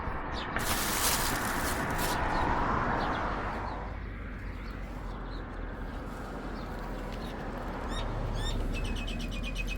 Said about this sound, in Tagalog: At maingay yung mga birds